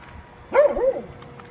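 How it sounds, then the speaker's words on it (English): A dog gives a short burst of barking, one or two quick barks at moderate distance, standing out briefly over a quiet outdoor background. "That dog barking at that lady."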